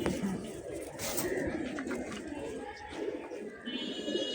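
A pair of silver pigeons coo steadily at close range, with a soft murmur of people talking in the background.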